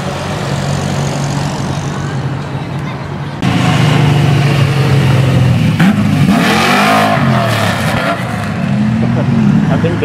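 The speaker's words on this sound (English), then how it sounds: "I think that's that Mustang we heard over there in Port Oakland." A Ford Mustang roars past fast at a drag event in Nederland, engine noise swelling sharply partway through and staying loud with a rising, sweeping pitch, while people talk over it.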